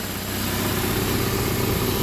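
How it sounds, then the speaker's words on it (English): A car engine with an exhaust leak runs steadily up close, a constant rough, throbbing idle drone with no talking and no change in pace. "I definitely have an exhaust leak up here."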